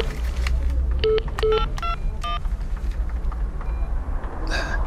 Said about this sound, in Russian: Извини, у меня по второй линии звонок.